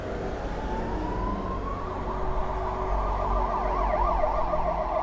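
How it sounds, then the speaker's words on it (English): A wailing siren rises and sweeps up and down, growing louder as emergency vehicles pass over steady traffic rumble in the Algarve, Portugal. "Pausing the video for the sirens that go by about every 4 minutes."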